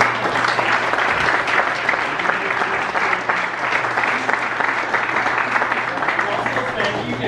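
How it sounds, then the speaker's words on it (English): A town hall audience claps loudly and continuously at the close of a ward meeting, a dense, even roar of hands lasting several seconds. "Let's have a big round of applause."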